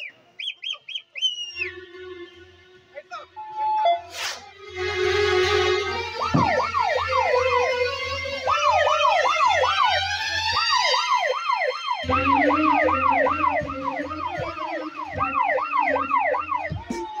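An ambulance siren wails loud and continuous as a sound effect in a Telugu social stage drama, its rising and falling tones cycling steadily after a few short honks at the start.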